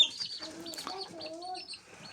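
Ten-day-old chicks of Adler, Leghorn and Jersey Giant breeds raised at home cheep in a quick cluster of thin, high peeps, close by, with a low voice murmuring underneath.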